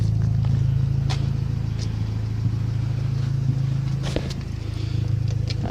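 A B20 turbo engine fitted with new cams idles steadily and smoothly, a close, continuous low rumble with an even pulse and no talk over it.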